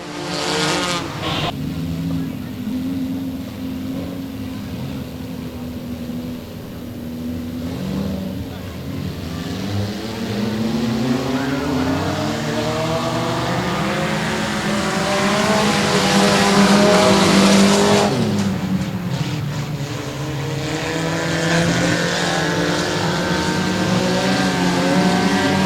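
Race cars roaring around Boothill Speedway during a King of the Hill event, engines rising and falling in pitch as they pass and drive deep into the turns, loud and continuous beneath a commentator's voice.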